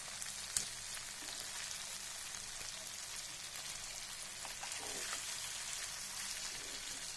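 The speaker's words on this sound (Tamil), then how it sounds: "நல்லா ஃப்ரை ஆனதுனால திருப்பி போட்டு" Fish frying in a pan for a Tamil-style fish fry, a quiet steady hiss and crackle of oil throughout with a faint tap early on.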